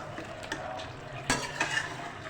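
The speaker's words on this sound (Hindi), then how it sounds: "ये ऐड कर दूँगी और अब हम इसे मिक्स करेंगे" Potatoes with dry curry leaves are stirred in a pan over a soft sizzle, with a few scraping clinks of a utensil against the pan, one sharper knock midway, fairly quiet and close.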